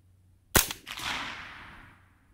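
A Colt AR-15 Sporter II carbine fitted with a .22LR subcaliber bolt fires one supersonic round, a sharp crack followed by a second snap and a long fading echo outdoors.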